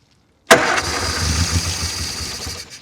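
The engine of a 1972 Austin van cranks and catches abruptly, then settles into a rough, close idle with an uneven chugging that fades slightly toward the end.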